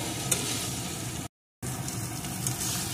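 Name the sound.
fried papaya being sautéed in the pan for fish curry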